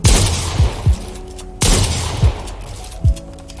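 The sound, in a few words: gunfire shooting a bot in Fortnite video game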